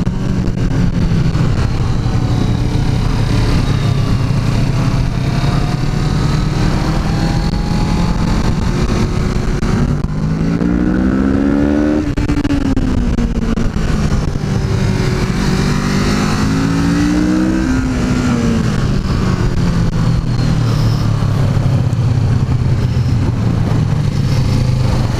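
Riding a Kawasaki Z650 motorcycle, the engine holds a loud steady note, then revs up and down through a few rising and falling sweeps before settling back to a cruising drone.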